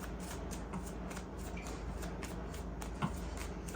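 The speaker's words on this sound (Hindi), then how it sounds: "हम एक एक करके कार्ड्स को कंसिडर करेंगे।" Playing cards being shuffled for a tarot-style reading, a soft rhythmic riffle and flutter repeated close up, quiet and alone without talk.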